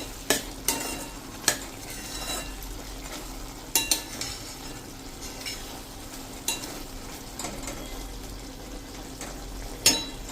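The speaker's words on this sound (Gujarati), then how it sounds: "અને હવે આને બધાને આપણે સરસ મિક્સ કરી લેશું." A spatula stirs and scrapes spiced sponge gourd sabji with garam masala in a pan, giving a soft low sizzle with scattered sharp knocks and clinks against the pan.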